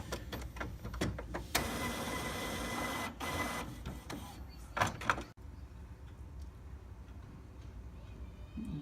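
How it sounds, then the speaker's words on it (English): An Epson WF7710 inkjet printer runs a nozzle check print, with whirring carriage motion and mechanical clicks up close, then a sudden stop followed by quieter running. "Now let me do a nozzle check."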